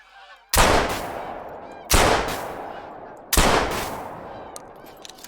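Three loud rifle gunshots in the hunting video game Hunter: Call of the Wild, each a sharp blast followed by a long rolling echo, spaced about one and a half seconds apart, with faint bird calls between.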